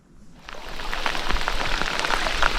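Rain pours down during a fishing trip. After a brief quiet start it swells into a dense, steady patter of drops, close and loud, with no speech.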